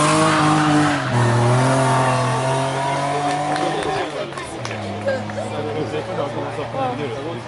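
A race car accelerates hard up the course at a historic hill climb event at Salins-les-Bains, engine note rising loud and close, with a brief tyre squeal, while a commentator talks over it.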